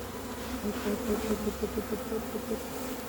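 A large honeybee swarm being recovered in a hive box after swarming hums with a steady, dense buzz, close by and continuous, with rising and falling swells of wingbeat tone and no talking.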